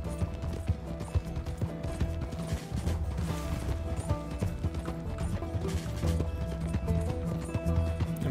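A horse's hooves clip-clop at a steady rhythm with grunting in Red Dead Redemption 2, fairly close and continuous, with faint mechanical clicks mixed in and almost no talk.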